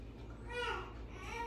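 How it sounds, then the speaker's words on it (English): A baby screams faintly in the background of a kitchen, a brief strained wail that rises and trails off under a low steady hum. "Please pardon the baby screaming in the background."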